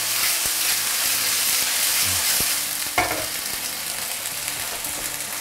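A thick piece of chicken pan-fried over medium-low heat, a loud, continuous close sizzle with a sharp clatter near the middle, no talking.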